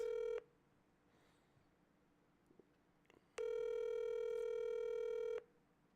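Telephone dialing and call tones from an outgoing phone call: a short steady tone, a quiet gap with faint clicks, then a longer loud continuous tone lasting about two seconds before cutting off.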